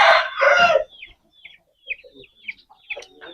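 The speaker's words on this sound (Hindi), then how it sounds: "ये देखें जी, ये मुर्गा है" An Aseel fighter rooster crows in a rising call, followed by a series of shorter, softer bird calls and clucks. No one is talking.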